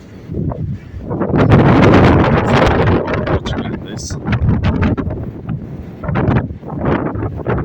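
Strong wind buffeting a ship at sea in the Atlantic Ocean off Portugal, loud and continuous roaring gusts across the whole stretch, with someone talking over it.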